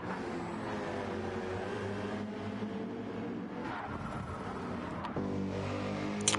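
Race cars in a racing video game run neck and neck through a tunnel, their engines giving a steady, harmonic, mid-pitched drone that shifts slightly as they pass. It is moderately loud and carries no talk.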